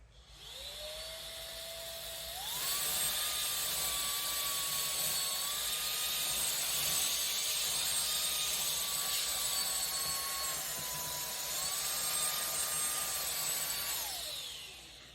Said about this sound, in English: We'll use auto mode again and then see how it goes.